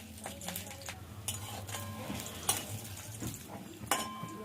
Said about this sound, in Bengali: বড়িগুলো প্রথমে ভেজে নেব।